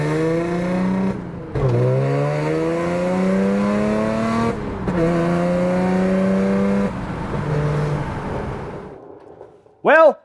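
Audi B8 S4 with a swapped-in manual transmission on a shakedown drive, its engine rising through the revs in sweeping pulls, breaking at two gear shifts, then easing off before a short sharp rise at the very end.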